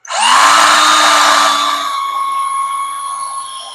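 A loud, high-pitched drill whines steadily as it bores into a Toyota 2.4L 2AZ-FE engine block, its pitch holding constant and tapering slightly toward the end.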